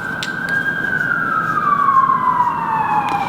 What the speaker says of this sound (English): Oh, we got sirens.